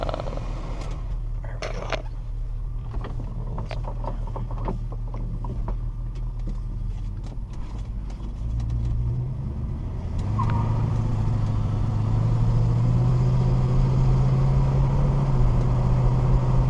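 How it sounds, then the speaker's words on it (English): A 1969 Mercury Cougar engine drones steadily from inside the cabin, rising in pitch and loudness as the car accelerates, with some faint clicks early on. "We'll actually turn this off so we can hear the engine."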